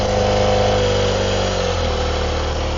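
Honda CBR250RR MC22 inline-four idling steadily with a misfire, a loud, close, continuous buzzing drone with uneven pulsing and no talk over it.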